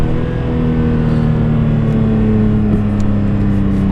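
A BMW E46 M3 with an SMG gearbox, stability control switched off, accelerating hard into third gear, a loud sustained engine drone with rising pitch throughout, heard from close by and alone.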